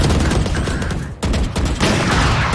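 Gunfire from a wallbang shot fired through a wall in a competitive video game match, a dense burst of loud shots with a brief drop to near quiet midway, then continuing, no talk.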